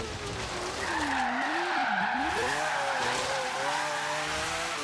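Car tires skid and squeal loudly and continuously during a drift in Forza Horizon 3, the pitch sliding down and back up over a steady engine drone, with no talking.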